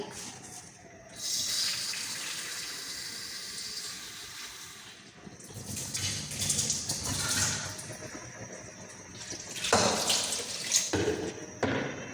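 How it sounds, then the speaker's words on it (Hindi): Water splashes and gushes in uneven bursts, as if poured from a container into a pot of rice and goat meat, with quiet pauses between pours. "थोड़ा सा पानी और डालूंगी।"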